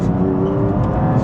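A BMW M4 GTS engine accelerates from inside the car, a loud, steady whirring drone rising in pitch through a dual-clutch gearbox, close and alone with no voices.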